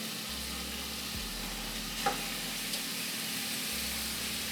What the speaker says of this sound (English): there's nothing like that sizzling sound when you're cooking